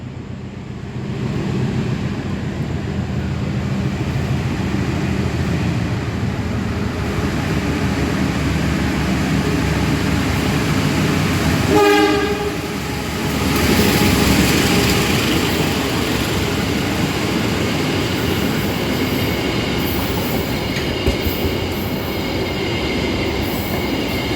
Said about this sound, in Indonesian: Segera melintas langsung kereta api Parsel, dan ini mungkin sepertinya Parsel Tengah atau Parsel Selatan ya.